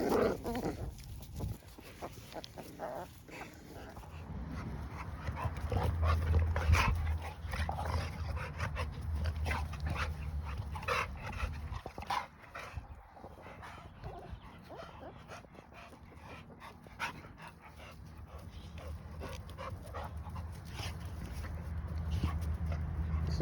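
American bully dogs, an adult and a puppy, whimper, yip and bark on and off throughout, moderately close, with a steady low rumble underneath.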